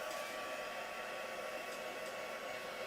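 Hair dryer or heat tool blowing over a stamped spring card, a steady close whooshing hum that holds even throughout.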